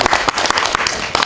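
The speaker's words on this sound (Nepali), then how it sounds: "जोरदार ताली" Loud applause from an audience at a Nepali cultural program, dense clapping filling the short stretch with a few sharper bursts standing out.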